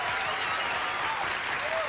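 A late-night television studio audience applauds in 1986, a dense, steady wash of clapping that holds at an even level throughout.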